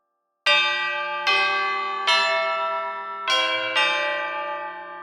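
Sampled tubular bells from a pitched percussion library ring out in five separate struck notes, each a bright metallic clang with a long shimmering decay overlapping the next.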